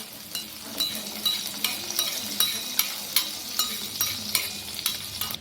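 A cashew tempering sizzles as it is stirred into payasam, with a soft steady sizzle under rhythmic spoon scrapes and clinks against the pot about every half second, close and clear.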